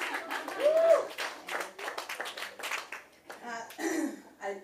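An audience at an open mic comedy night claps in scattered bursts that fade within a few seconds, mixed with voices and crowd noise.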